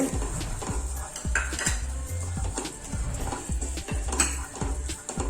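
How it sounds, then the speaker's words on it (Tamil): Cumin and fenugreek seeds roast in a pan while being stirred, with a steady busy crackle and repeated scraping and knocking of a utensil against the metal, close and fairly loud. "சீரகம் பொரியும் போதே டக்குன்னு வறுப்பட்டுரும்."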